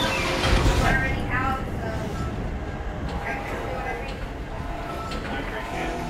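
A damaged tram car in the Dead Space video game rumbles and rattles along its track, a loud, continuous mechanical roar that steadies after a heavier start.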